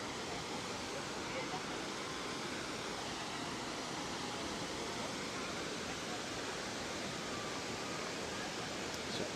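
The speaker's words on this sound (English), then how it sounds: "the podium ceremony with the beautiful waterfalls in the backdrop" Waterfalls roar in a steady, dense rush of white water beside a trail race finish area at the Prenn Trail Summit in Vietnam. The sound is loud and unbroken throughout.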